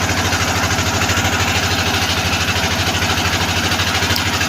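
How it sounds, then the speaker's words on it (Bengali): A boat engine idles at a river ghat before setting off from Kaptai toward Rangamati, giving a loud, steady, close mechanical throb with an even pulsing rhythm and no speech. "আমাদের নৌকা কিছুক্ষণের মধ্যে এই ঘাটের মধ্যে বেরাবে।"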